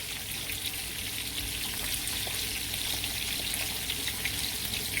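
Steady crackling sizzle of small fish frying in hot oil, a dense hiss that holds at a constant low level with no talk.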